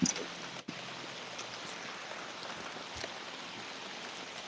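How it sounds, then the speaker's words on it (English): Rain falls steadily around a boat during bass fishing on Lake Lanier, a faint, even patter with a few soft knocks and no talk. "You got that rain coming down on him up there."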